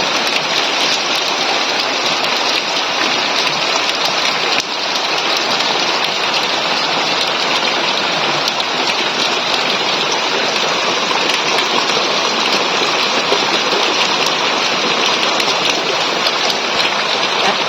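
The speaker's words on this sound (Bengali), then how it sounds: "প্রচুর পরিমাণে বৃষ্টি হচ্ছে" Heavy rain pours steadily outdoors on a cold, foggy day, a dense, continuous hiss of drops striking surfaces that stays loud and unbroken throughout with no voices.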